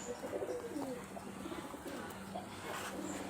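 Local Giribaz pigeons of Rajshahi cooing softly in low, repeated calls over a steady hum of background noise.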